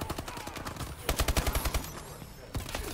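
Rapid automatic gunfire in a shooter video game's uplink match, with bursts of quick rhythmic shots, a denser volley in the middle and another burst near the end, under game effects and faint voices.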